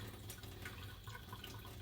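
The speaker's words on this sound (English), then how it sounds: "That's what you get for free pouring from the tap" Water runs steadily from a kitchen tap while crested gecko food is mixed, producing a continuous broadband splashing rush at close range with no voices.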